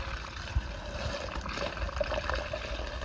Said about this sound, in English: I'm just gonna run a little water through the fridge, make sure everything's working as it should.